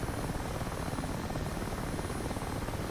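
A Mi-8 Hip helicopter in the DCS World flight simulator, its rotor and turbine engine producing a steady, dense, close thrumming drone that holds without change throughout.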